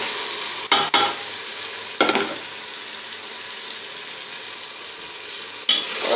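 Turnips stirred into sizzling fried masala in a pan: a soft steady frying hiss throughout, broken by three or four sharp scraping stirs, close and with no talk.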